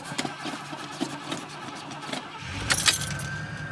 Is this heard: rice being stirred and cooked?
no